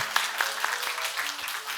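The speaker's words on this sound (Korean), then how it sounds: "뜨겁게 박수하겠습니다." A church congregation applauds during a Sunday worship service, brisk clapping heard briefly with a faint steady hum underneath.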